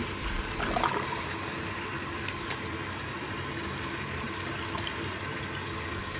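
Running warm water splashes and swishes steadily over fabric in a sink, with brief sloshing bursts near the start, no voices.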